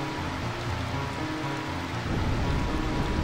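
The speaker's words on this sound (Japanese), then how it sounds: "素晴らしい雨じゃないですか。" Steady rain from the video game Final Fantasy IX hisses continuously, a dense broadband downpour that thickens with low rumbling toward the end, with no voices.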